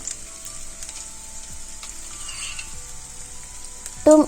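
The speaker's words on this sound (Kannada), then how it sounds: "ಇವಾಗ ಈರುಳ್ಳಿ ಫ್ರೈ ಆಗಿದ್ದಕ್ಕೆ ಇವಾಗ ಕ್ರಷ್ ಮಾಡಿ ಇಟ್ಕೊಂಡಿದ್ದನ್ನು ಹಾಕ್ಕೊಳ್ಳೋಣ" Fried onion and lightly crushed ingredients for Thai fried rice frying in a pan, a soft steady sizzle with faint scattered clicks, ending in a short loud scrape near the close.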